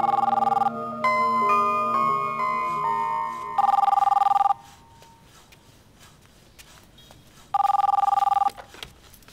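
A telephone rings in loud repeated bursts, first with a tinkling melodic tone and then two electronic ring bursts separated by quiet pauses with faint movement, close and clear.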